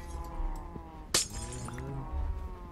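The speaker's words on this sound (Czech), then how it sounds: "Takže ještě rozbít sklo." A single glass block shatters in Minecraft, a sharp crisp break with a short tinkle, heard over a quiet background hum of game music.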